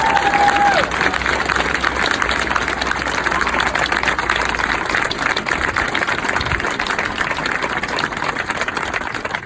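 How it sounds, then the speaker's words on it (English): Graduation audience applauding and cheering for the graduates, a steady dense roar of clapping that fills the space throughout, with no clear pauses. "Now we all cheer for you."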